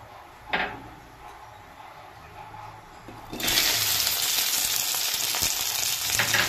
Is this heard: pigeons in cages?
no